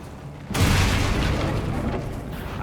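Spell cast in Hogwarts Legacy: a sudden deep whooshing boom that swells and holds as a broad rumbling shimmer for about two seconds.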